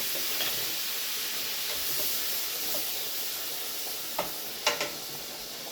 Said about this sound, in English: Now I'm going to put the shrimp right into the pan.